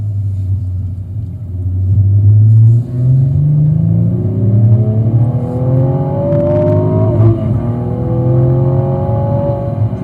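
Engine of a 2016 Cadillac ATS-V coupe with six-speed manual, droning loudly from inside the cabin as it pulls through rising revs and shifts, a steady rumbling tone sweeping upward across the whole stretch.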